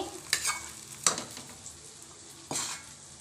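Tempering poured into rice and stirred in, a few sharp spoon scrapes and clinks against the pot over a faint sizzle, close and fairly quiet.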